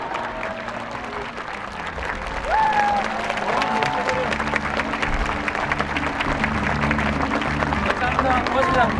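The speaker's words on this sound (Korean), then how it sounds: "시장님께 여러분, 그리고 공무원분들께 박수 부탁드리겠습니다." Applause from an audience at a Korean National Assembly audit hearing, a dense, steady clapping that swells after a couple of seconds and continues throughout, mixed with crowd murmur and some voices.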